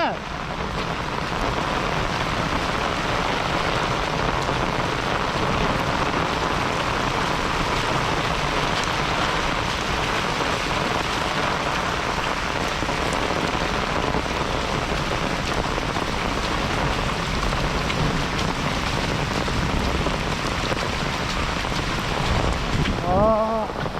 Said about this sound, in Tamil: மழை நல்ல மழை கல் மாதிரிலாம் விழுந்துச்சு